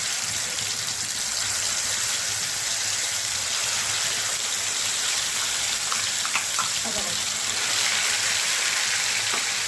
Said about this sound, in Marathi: हा वाटून घेतलेला मसाला आपण त्यात तळण्यासाठी टाकून द्यायचा